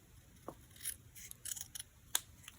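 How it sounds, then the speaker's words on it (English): Scissors snip a paper leaf down the middle for a turkey pop-up card, a few quiet, close cuts spread over a couple of seconds. "take one of the leaves that's shaped like this and just go ahead and cut it down the middle"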